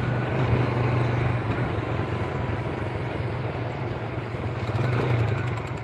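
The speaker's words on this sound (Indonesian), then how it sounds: "Suara mesin adem." A motorcycle engine, freshly rebuilt two months earlier with its clutch just readjusted, runs steadily at idle with a low continuous drone and a faint rattling texture, close and unchanging throughout.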